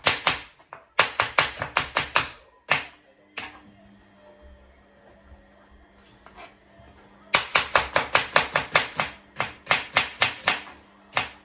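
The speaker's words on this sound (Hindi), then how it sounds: "हमने ऑनियन काट लिया है।" A knife chops onion for biryani in quick, sharp, rhythmic strokes on a board, close up. One fast run is followed by a quieter pause with a few scattered taps, and then another rapid run of chopping.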